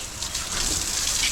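Water spraying against house siding to wash off pollen, a steady broadband hiss of rushing water throughout, close and fairly loud with no talk.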